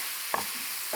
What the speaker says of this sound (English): Just so it's more like a chill sizzle, not such an aggressive sizzle.